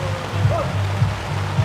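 Heavy rain pours onto an outdoor swimming pool during a storm, a dense, steady hiss of drops on water close by, with faint background voices barely audible beneath it.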